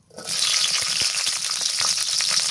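Chili and garlic fry in mustard oil in a hot pan, giving a loud, steady crackling sizzle that starts suddenly and continues throughout, with faint stirring scrapes underneath.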